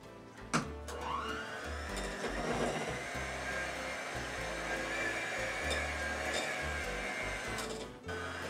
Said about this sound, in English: Okay, then I have a mixer.